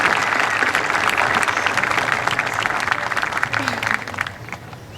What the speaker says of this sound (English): Seniors, if you could all please give your loved ones a round of applause